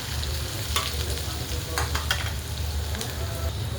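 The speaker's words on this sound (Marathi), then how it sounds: "इथं बारीक चिरून कांदा घेतलेला आहे, जेवढा लागतो तेवढा टाकून घ्यायचा." Finely chopped onion frying in hot oil in a pan, a steady close sizzle with occasional crackles and stirring scrapes.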